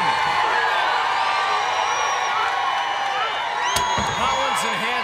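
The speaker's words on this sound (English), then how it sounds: "the crowd's feeling it" A roaring crowd cheers at the 2016 World's Strongest Man loading race, a steady dense wall of noise with a commentator talking over it.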